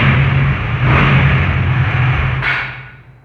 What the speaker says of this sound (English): I just need to do this, and it starts up by itself